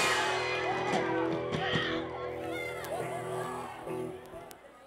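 A live audience at a band's show whoops, shouts and cheers in a dense, continuous roar, with individual yells rising out of the crowd noise throughout.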